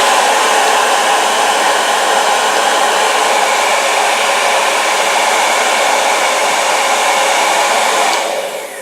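A hair dryer runs loudly and steadily with a constant high-pitched whoosh, then begins to fade near the end.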